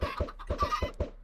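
Chickens in the video game RivenRise cluck in a quick, steady run of about six short clucks, soft and close, with no talking.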